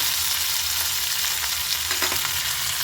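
Mustard seeds, dried red chillies and curry leaves fry in hot oil for amla rasam, giving a steady close hiss with a few soft stirs or crackles in the middle and no voices.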